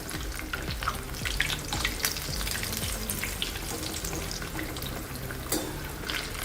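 Bread sandwich pakoda fries in hot oil over medium heat, giving a dense, close sizzle and bubbling that runs unbroken, with light stirring or turning sounds and no talk.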